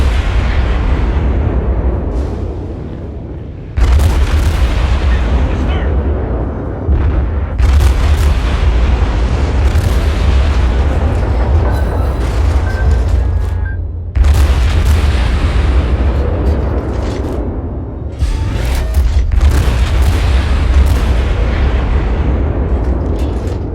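Heavy naval gunfire from a cruiser in World of Warships, the St. Louis: loud, deep booming salvos repeat every few seconds over a constant low engine rumble, with explosions and crackling impacts in between and no voice.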